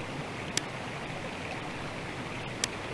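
A river flowing in the fantasy game Fable, a soft steady rush of water running quietly throughout, with two faint brief clicks.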